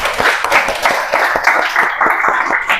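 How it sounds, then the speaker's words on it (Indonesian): Applause from a classroom of students for a group's discussion presentation, a short burst of steady, close clapping that carries through without a break. "kita beri aplaus dulu"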